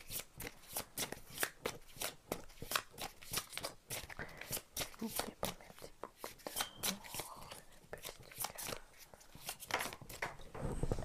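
Oracle cards are shuffled in a long run of crisp, quick riffling flutters and soft papery slaps, close and distinct against a quiet room.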